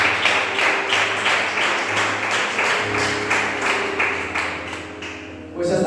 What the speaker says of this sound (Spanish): ¿Cuántos dan un fuerte aplauso a nuestro Dios?